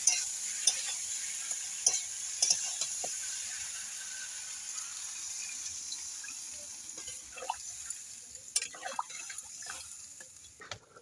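Fish and fried spices sizzle in a pan as they are stirred, giving a steady close hiss broken by scraping clicks and small bubbling pops, with no voices.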